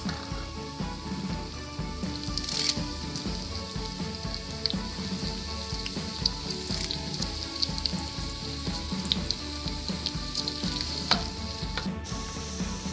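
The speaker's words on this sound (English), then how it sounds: "Next we are going to add in the onions and the curry leaves." Onions and curry leaves frying in hot oil, a dense, steady crackling sizzle close up with occasional sharper pops and stirring clicks, no voices.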